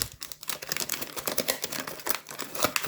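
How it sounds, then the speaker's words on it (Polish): Thin plastic foil wrapping is peeled off a boxed Moyu RS Magnetic Pyraminx, a dense run of close, sharp crinkles and crackles with brief quieter gaps. "Teraz właśnie tej folii się pozbędziemy"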